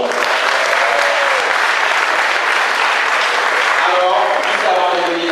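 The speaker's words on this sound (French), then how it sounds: "je demande d'applaudir et d'accueillir" Loud, sustained applause from the audience at a political campaign candidacy declaration in Capesterre-Belle-Eau, a thick continuous roar of clapping with voices rising faintly beneath it toward the end.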